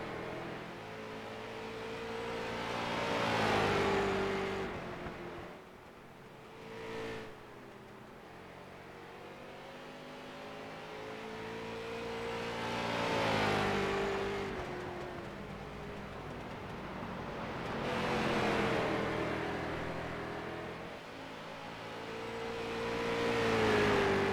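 Street stock race cars roar past in repeated waves on an oval track, each engine note rising loud and then fading as the pack goes by, with a steady drone between passes.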